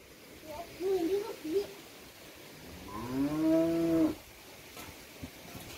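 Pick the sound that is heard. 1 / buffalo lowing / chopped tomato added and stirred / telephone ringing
buffalo lowing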